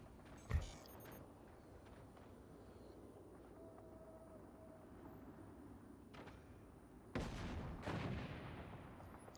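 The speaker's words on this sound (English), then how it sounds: "A nice shotgun out of Armadillo here." Shotgun blasts in the real-time strategy game Forts: a sharp boom near the start, then a heavier burst of firing later, over a low steady rumble of background battle noise.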